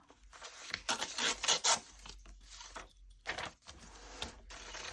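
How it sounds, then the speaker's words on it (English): A page being torn from an old book while it is altered into a junk journal: several raspy, papery rips in short bursts, close and fairly quiet, with brief pauses in between. "I'm going to tear that part off"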